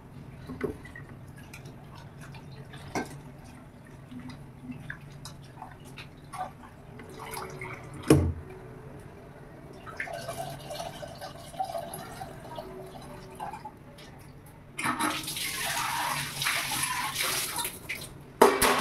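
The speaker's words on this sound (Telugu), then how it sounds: "మనం ముందుగా కలిపి పెట్టుకున్న చింతపండు రసం అయితే పోసుకుందాం." Tamarind juice is poured into a cooking pot, first as scattered drips and small splashes, then as a louder, sustained rushing pour near the end.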